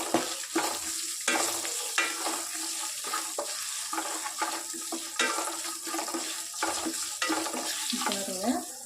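Oil sizzling and frying in a pan for Tamil-style carrot rice, with steady crackle and occasional stirring scrapes throughout, close and moderately loud.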